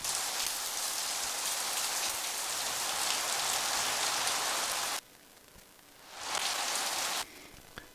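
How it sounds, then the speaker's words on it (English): Rain falling at Incheon airport in the evening, a dense steady hiss of drops on surfaces that cuts out abruptly, returns, then drops away again near the end. "It does sound like we're getting more rain as opposed to less right now."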